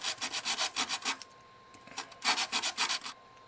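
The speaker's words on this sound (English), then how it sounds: "I'm going to sand this down so that it is flat" Sanding the cut end of an arrow shaft flat: two bursts of quick, rhythmic back-and-forth rasping strokes, close and fairly quiet, separated by a short pause.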